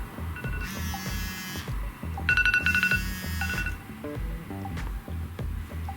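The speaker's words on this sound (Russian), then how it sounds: "на iPhone будильник сработал, только когда включили смартфон" An iPhone alarm rings out after the phone is switched on: repeated bursts of a bright electronic ringtone over a low rhythmic backing, loud and close, with no talking.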